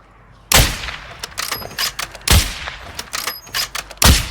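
Call of Duty Warzone DMZ gunfire: three loud, sharp shotgun-like blasts roughly every one and a half seconds, with quicker, lighter shots rattling between them, close and prominent.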